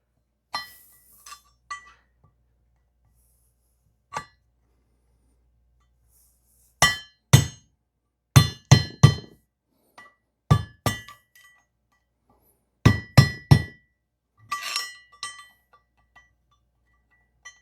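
A KTM 390 Duke cylinder head is hammered and chipped, giving bright metallic clinks, first a few sparse taps and then quick clusters of close, loud strikes separated by short pauses.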